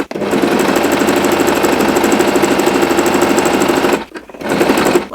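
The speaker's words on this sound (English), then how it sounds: "once we're ready we can now start sewing our straight stitch" A Singer Promise sewing machine runs a straight stitch in a steady, loud, close mechanical whir for about four seconds, pauses briefly, then starts again.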